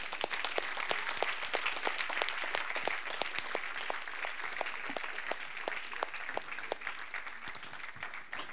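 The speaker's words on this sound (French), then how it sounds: "Est-ce qu'on peut lui donner une acclamation en terminant aujourd'hui?" A church congregation breaks into steady, sustained applause at the end of a service, many hands clapping densely together for several seconds and filling the room evenly.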